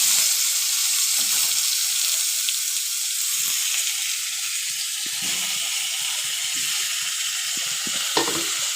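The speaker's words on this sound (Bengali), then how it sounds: "এখন এবার বেগুনগুলো দিয়ে দিচ্ছি ওই তেলেতেই।" Eggplant pieces are added to hot oil already used for frying lentil dumplings, giving a steady bright sizzle and crackle close up that holds evenly throughout, with occasional faint stirring clicks and no talking.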